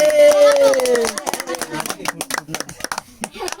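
A child at a fourth birthday celebration claps, a quick uneven run of small hand claps under lively adult talk.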